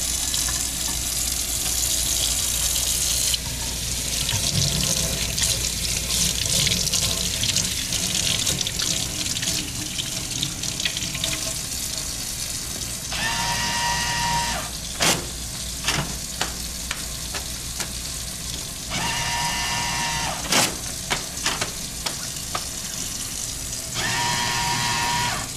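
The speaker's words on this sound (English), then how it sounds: "we're only going to wash our hands for 29 seconds" Hands are washed under a steadily running tap at a sink in a clinical setting, with broad water rush and splashing changing as the hands move. It is loud and close throughout, with brief pauses in the flow texture and no talk.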